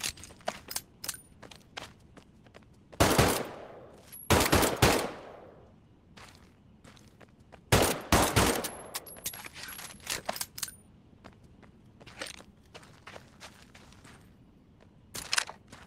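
A pistol fires in the VR shooter Medal of Honor: Above and Beyond. Several loud, sharp single shots ring out a few seconds apart, mixed with lighter mechanical clicks and clacks from handling the weapon.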